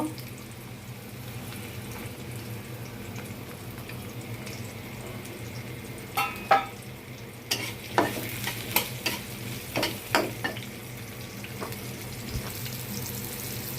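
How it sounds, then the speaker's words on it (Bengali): Potatoes frying in a pan, with a soft steady sizzle and occasional scraping stirs and clinks in the second half, close and fairly quiet, no talk. "প্রথমে আমি আলুগুলো ভেজে নিব।"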